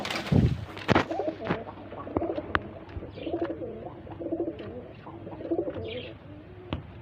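Pigeons at a Bangladeshi breeding farm, including a pair of chocolate grizzles, cooing and murmuring close by in repeated soft phrases, with occasional chirps, wing or cage clatter and brief faint talking.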